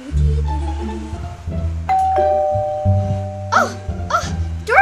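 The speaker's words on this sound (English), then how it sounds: "Oh, doorbell!" A doorbell chimes in a children's toy-doll family show, a bright two-tone ding-dong heard near and clear over a musical background.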